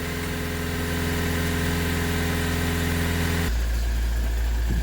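A Vauxhall Vivaro van's diesel engine with a blocked DPF idles steadily with a low, throbbing rumble, close up, its tone shifting slightly partway through as the revs change.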